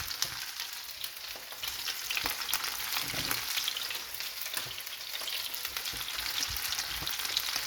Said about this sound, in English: I'm going to add yesterday's fried up fish